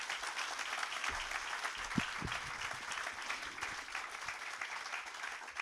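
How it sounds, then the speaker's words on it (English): Audience applause follows a talk by James Rebanks on shepherding landscapes: a soft, continuous wash of clapping heard at a distance, with a couple of brief thumps partway through. "I feel like the applause could go on for the entirety of our question time"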